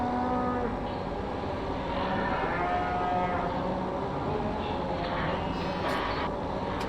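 Cows mooing on a farm in Farming Simulator 2017, with several drawn-out moos rising over a steady droning background of farm machinery, at moderate loudness with no talking.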